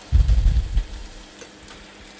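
Pheasant dropped into melted butter in a hot pan gives a brief loud sizzle that quickly settles to a faint steady crackle.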